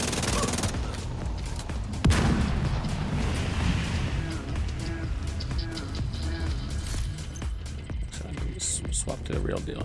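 Mortar rounds and rapid gunfire in The Division 2, a steady fusillade of shots with one sharp loud impact early on, all under continuous talking.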